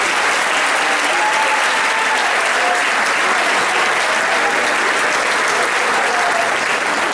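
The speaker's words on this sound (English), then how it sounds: "let's give a round of applause to the seniors" Audience applause for the seniors at the Rockville High School varsity sports banquet: loud, dense clapping from a large crowd that holds steady for the full stretch, with no voices breaking through.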